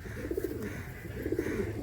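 Oman and Saki Teddy pigeons at a Kolkata sale coo in soft, repeated throaty rolls, close by and steady, with no talk over them.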